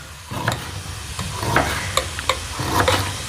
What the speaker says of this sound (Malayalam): ജഗ്ഗു വറുത്തോട്ടാ.